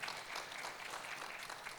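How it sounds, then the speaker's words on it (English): Steady applause from a conference audience at a keynote address, a dense patter of clapping that holds at an even level for the whole stretch, with no voices standing out. "I think they deserve a big round of applause."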